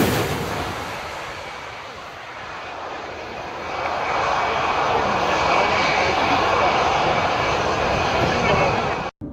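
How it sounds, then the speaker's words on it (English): A fighter jet flies low on final approach near a crowd, its engine roar building from a loud rush to a sustained, powerful blast before cutting off abruptly; a narrating voice is heard over it. "This fighter jet got too close to the crowd on the final approach."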